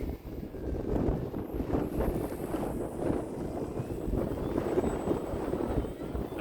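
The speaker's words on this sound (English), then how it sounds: "The wind just picked up." Steady wind buffeting the microphone outdoors while an E-flite Extra 300 3D 1.3m electric RC plane flies, a continuous low rumbling roar with gusty swells and no clear engine tone standing out.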